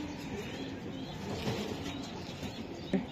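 Racing pigeons from a breeding club coo softly at close range over a low, steady background hum, with a brief louder flutter or call near the end.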